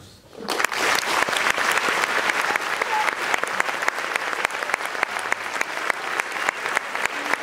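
An audience applauds at the 2017 final edition of a live event, with dense sustained clapping that starts abruptly, rises fast and carries on steadily at full strength throughout, with no voices heard over it.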